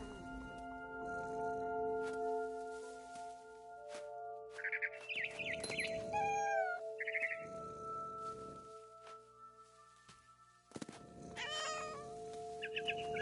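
A cat meows several times in What Remains of Edith Finch, with harmonic calls clustered in the middle and again near the end. A steady tonal game ambience and some bird chirps sit underneath.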